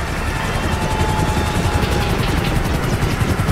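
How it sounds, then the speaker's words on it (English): A police helicopter hovers overhead in the Grand Theft Auto 5 video game, its rotor chopping in a loud, rapid, continuous pulse that dominates throughout. "We ain't going nowhere with that chopper on us."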